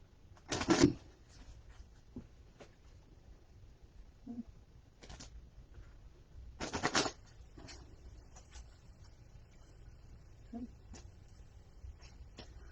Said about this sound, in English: giving the cards a good shuffle.